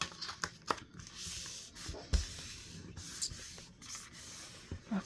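Rustling, rubbing and soft creasing of fabric as a junk journal cover is folded to form a 2-inch spine, with a few brief taps, up close and fairly quiet.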